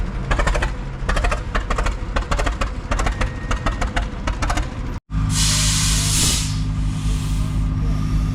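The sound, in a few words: compressed air turning over a Fairbanks Morse stationary engine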